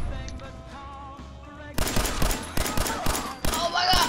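Gunfire in the video game Fallout 4. A quiet stretch of soft game tones gives way to loud, rapid repeated bursts of shots that continue to the end.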